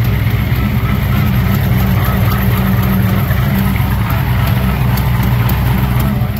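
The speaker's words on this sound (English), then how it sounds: "I think it's an exhaust leak." A modified car's engine idles with a leaking exhaust gasket chuffing, a loud continuous low rumble with a rapid uneven puttering pulse close by, steady throughout with no talk.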